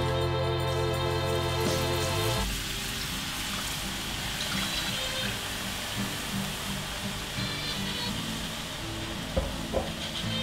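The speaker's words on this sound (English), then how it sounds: "It's time to add in our beef stock." Beef stock goes into a light golden brown roux in a hot pan. A short tonal sound drops into a broad, steady sizzling hiss with faint stirring clicks near the end.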